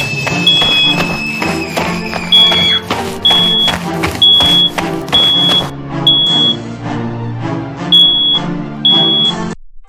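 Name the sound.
fire alarm going off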